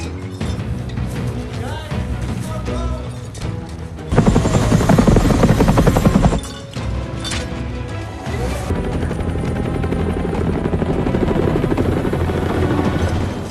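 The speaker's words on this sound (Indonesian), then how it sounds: "kelompok Braddock mulai mengeluarkan kedua kapal itu pakai helikopter" A helicopter's rotor thrum fills the scene alongside busy action sounds, with a loud, dense burst in the middle before the steady whirring continues.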